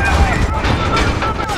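A demolition charge explodes in the Call of Duty: Modern Warfare video game, a loud, rumbling blast with heavy low-end boom and crackling debris lasting about a second and a half, while a voice is heard alongside.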